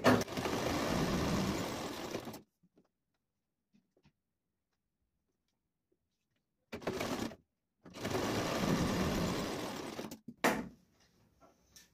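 A sewing machine runs along a blouse seam in two bursts, a loud steady whir of about two seconds, silence, then a brief start and a longer run, ending with a short clack.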